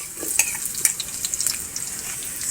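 Garlic and onion sautéing in a pan for egg tinola, a steady close sizzle and crackle with light stirring scrapes throughout, no voices.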